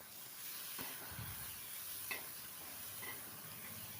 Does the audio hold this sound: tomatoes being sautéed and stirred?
yes